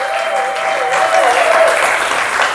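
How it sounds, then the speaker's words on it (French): A church congregation applauds for Sephora, a steady wash of clapping filling the whole stretch with no break, a few voices faintly mixed in. "Est-ce qu'on peut quand même acclamer pour Sephora?"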